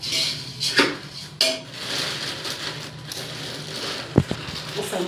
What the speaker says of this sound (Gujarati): એમાં તપેલું મૂકી તો થોડુંક તેલ નાખી